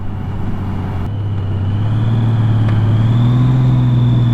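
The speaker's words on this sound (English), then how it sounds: "So I'm just out here cruising on my Honda Goldwing, trying to get the ride in." A Honda Goldwing motorcycle with a DCT gearbox cruises on the road, its loud, close engine drone rising steadily in pitch as it gains speed, with wind noise and no talk.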